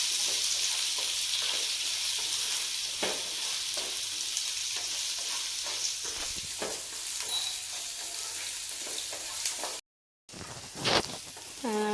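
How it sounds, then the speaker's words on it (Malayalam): Shallots, garlic, green chilli and curry leaves sauté in a hot pan, giving a steady close sizzle and frying crackle with occasional stirring scrapes, broken by a brief gap before the sizzle resumes. "നന്നായിട്ട് പിന്നെയും വഴറ്റുക."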